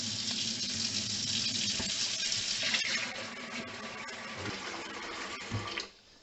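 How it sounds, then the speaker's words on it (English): Water from a kitchen tap runs into a slow-draining sink, a steady close hiss and splash that holds evenly before cutting off near the end. "If I put this tap on,"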